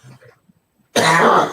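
A single harsh cough bursts out loudly and close after a stretch of near silence with faint murmuring, continuing for about half a second.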